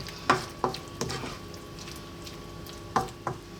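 A pot of chickpea potato curry with cilantro being stirred: a few sharp spoon knocks and scrapes against the pot, spaced irregularly over a quiet simmer, close and fairly loud.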